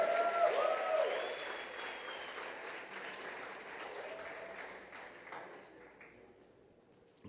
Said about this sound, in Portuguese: vamos aplaudir o Senhor. Aplauda mais forte